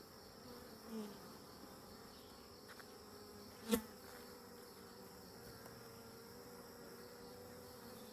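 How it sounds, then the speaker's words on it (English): Honey bees buzz inside a busy, crowded hive, a faint, steady hum with a single soft knock partway through. "they are booming in here. We got lots of bees."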